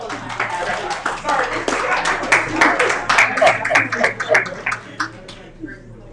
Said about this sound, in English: let's give Lindsay Parker another round of applause, please